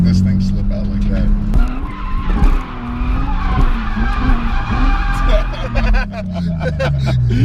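An unprepped car drifting, tires squealing in long wavering tones over a steady engine drone, with people talking nearby throughout.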